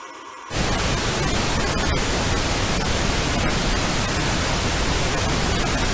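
After a brief quiet moment, a steady broadband hiss of pink noise switches on and continues evenly and loudly to the end.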